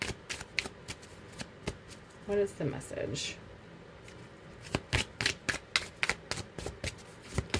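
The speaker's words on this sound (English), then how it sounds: "Good shuffle here" Tarot cards being shuffled by hand in quick, crisp riffling bursts and taps, close up, with a short spoken question partway through.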